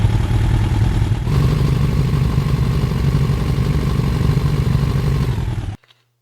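Synthesized vehicle engine built with Unreal Engine 5 MetaSounds and driven by an RPM setting: a loud, steady mechanical engine drone with a gritty rattle, holding constant for about six seconds before cutting off abruptly into silence.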